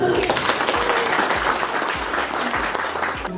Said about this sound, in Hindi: तो आवा के लिए एक बार ताली हो जाए।